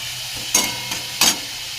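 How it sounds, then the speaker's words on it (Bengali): Spice mix with turmeric and salt frying in oil, a continuous close sizzle broken by two louder bursts of stirring, no voices. "এরপর আমি মশলাটাকে ভালো করে কষাবো, যতক্ষণ না মশলা থেকে তেলটা ছেড়ে দিচ্ছে"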